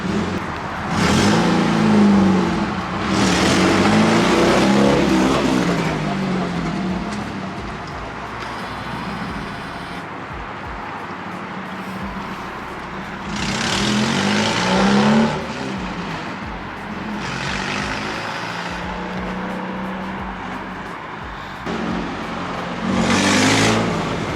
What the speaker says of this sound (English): I mean, the car drives good, it sounds good, but it still dies.